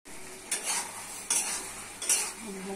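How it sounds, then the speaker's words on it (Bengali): Potatoes and okra are stir-fried in a pan with a soft continuous sizzle, broken by three scraping stirs of a utensil at roughly even intervals, close up and fairly quiet. "দিচ্ছি কিছু আলু ঢেঁড়স, কষে কষে রান্না করে নিতে হবে।"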